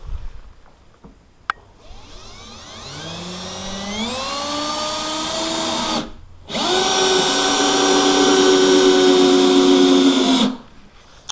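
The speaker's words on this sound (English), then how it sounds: "I'm just going to screw this down" A power drill driving screws into a spool table whirs up to speed, cuts out briefly, then runs again at a steady high pitch before stopping, loud and close.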